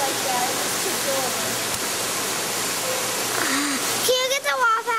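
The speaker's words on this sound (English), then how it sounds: "I want to take a picture of the water fountain." An indoor water fountain at a Yankee Candle shop splashes in a steady, loud rush throughout, and children's voices rise over it at the end.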